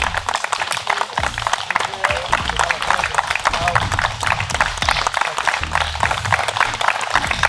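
Steady, loud applause from a crowd at an outdoor awards ceremony for a carp fishing competition in Poland, clapping continuously throughout with voices mixed in underneath.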